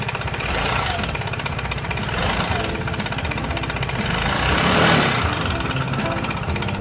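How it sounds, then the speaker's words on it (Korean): Vespa Sprint 125 i-get ABS scooter engine runs just after starting with an ominous internal rattle, a steady close mechanical chatter that swells slightly midway. "시동을 걸자마자 엔진 속에서 들려오는 불길한 잡소리"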